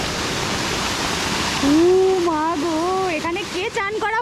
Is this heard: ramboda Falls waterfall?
yes